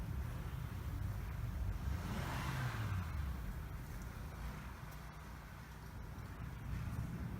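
Car engine droning faintly at a distance as it pushes through deep snow during a blizzard, a steady low rumble mixed with wind noise and no speech.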